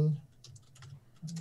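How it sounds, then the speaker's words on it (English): Keys clatter on a computer keyboard in a short, close burst of typing during coding work, quiet and irregular. "So I'm going to just type using,"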